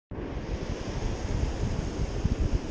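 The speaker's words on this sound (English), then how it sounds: "The waves are just too much today." Ocean waves and surf crash and roll continuously, loud and close, as heard from a surfboard out at sea on a rough day, with a steady broadband wash and gusty wind buffeting the microphone throughout.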